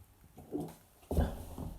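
A small dog whimpers indoors, a short high whine followed by a louder, longer whimper, close to the listener and without any speech.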